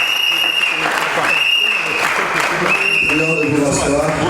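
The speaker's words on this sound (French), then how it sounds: "applaudissez s'il vous plaît, ils sont là." Loud, sustained applause from an audience welcoming arriving delegates of a culture and arts division at a ceremony, with a voice speaking over the clapping and a high whistle-like tone running through it.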